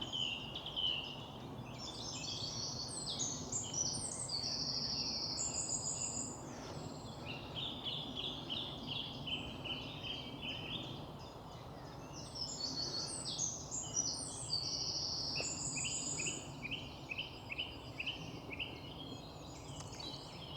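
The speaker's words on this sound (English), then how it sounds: "in it with the bird song that accompanies it" Birdsong in a spring bluebell woodland: many birds chirp and warble continuously in a dense, lively chorus, some calls close and bright, others further off, with no talking.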